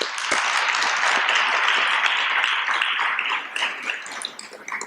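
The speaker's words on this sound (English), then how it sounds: "Let's give them a round of applause." An audience at a school district presentation claps for the team that made its videos, a full burst that thins into scattered claps near the end.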